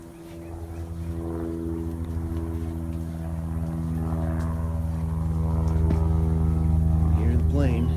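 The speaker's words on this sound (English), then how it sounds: "Hear the plane." An airplane drones overhead above a lakeside hiking trail, a steady loud hum with layered tones that swells gradually and stays up close, and a voice briefly speaks near the end.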